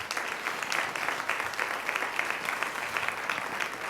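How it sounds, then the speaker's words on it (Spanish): A church congregation claps together, a steady, fairly close wash of many hands with bright individual claps standing out, continuous throughout. "Las palmas al Señor Jesús."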